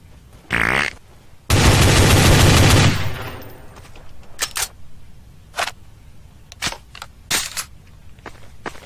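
Gunfire in Counter-Strike: Source rattles out in a short burst, then a longer sustained automatic spray, followed by scattered single shots and sharp clicks at varying distances.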